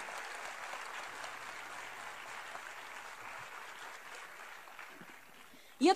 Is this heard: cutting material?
no